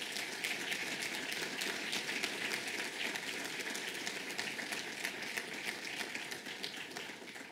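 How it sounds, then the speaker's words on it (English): Sustained applause from a crowd, dense steady clapping that fills the whole stretch at an even level, slightly tapering toward the end. "Let's give him another round of applause."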